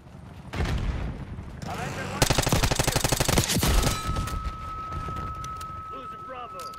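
Call of Duty Black Ops 6 gunfire comes in loud, rapid automatic bursts mixed with explosive booms, followed by a lingering high electronic tone and game effects as the noise fades.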